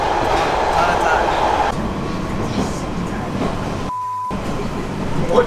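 An old, outdated train rattling, shaking and rumbling loudly, with a sharp metallic screech cutting in near the end amid the clatter.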